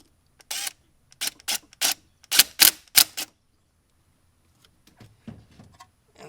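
Coolant hose clamp on a Mercedes CLS55/E55 with the M113K engine being tightened, heard as a series of sharp close ratcheting clicks and metallic snaps in uneven bursts, followed by a few fainter knocks.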